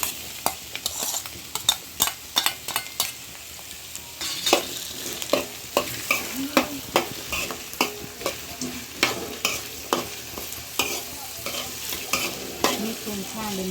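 Potatoes sizzle in a hot pan while a spoon stirs them, scraping in a steady, regular rhythm of sharp strokes over a continuous frying hiss, close and clear with no voices.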